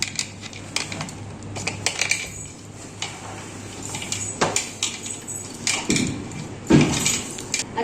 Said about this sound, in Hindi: अब सारी चीजों को हम मिक्स कर लेंगे